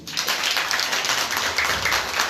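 A church congregation applauds together, a thick, even roar of clapping that holds steady throughout and fairly close, with no talking on top.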